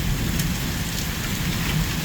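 Heavy rain pours down during a storm that brought hail, a dense, loud, constant hiss and patter close by with no pauses.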